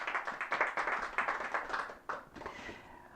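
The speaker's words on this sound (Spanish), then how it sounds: "Denle un fuerte aplauso al Señor." A congregation at a church service claps together for the Lord, a dense burst of handclaps that is fairly close. The clapping thins and fades toward the end.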